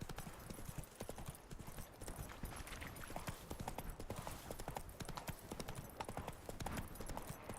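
Roach, the horse in The Witcher 3, gallops with a fast, steady run of hoofbeats throughout, fairly faint and unbroken, with no talking.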